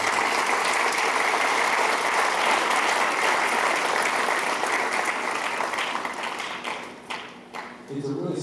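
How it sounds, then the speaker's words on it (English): Audience applause for school paraprofessionals at a high school concert band and symphonic band concert fills the hall, steady and dense, then thins and tapers toward the end as a voice begins speaking. "So how about a round of applause for our paraprofessionals?"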